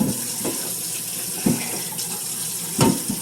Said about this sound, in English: I wash my sink a few times a day to keep it clean.